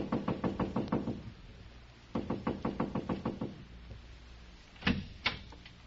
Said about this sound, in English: So I just kept knocking and knocking